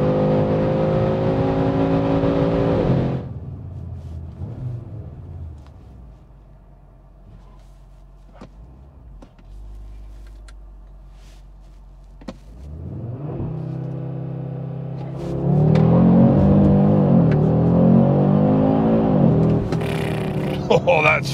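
A 2022 Audi RS3 Sportback accelerates hard on the Autobahn: loud engine roar with rising gear pulls at the start, a quieter steady cruise in the middle, then a second strong surge of revving and rumble near the end.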